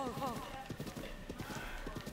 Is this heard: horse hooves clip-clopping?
yes